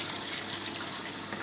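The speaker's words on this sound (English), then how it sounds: "cold water run over so my potato is not overcooked" Cold tap water runs steadily over drained boiled potatoes in a kitchen sink, a soft, even splashing hiss heard alone at low volume.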